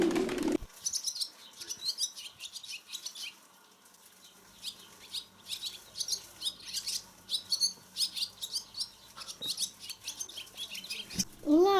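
Quick bright chirps and twitters from swallows, repeated in bursts, with a brief flutter of wings and a low background hum.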